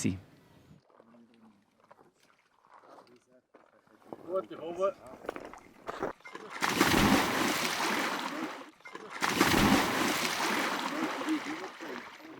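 Bernese water police divers splashing in the icy Hinterstockensee during winter rescue training, two loud bursts of churning water close by, preceded by quieter sounds and mixed with voices.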